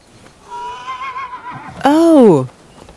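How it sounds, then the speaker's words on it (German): A faint voice murmurs, then a loud horse whinny from the video game Rise of the Ronin on PS5 rings out, rising and falling for about half a second before cutting off. "Oh, hier ist ein Pferd."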